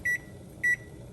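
A stove timer gives two short, clear electronic beeps about half a second apart while being set in a quiet kitchen.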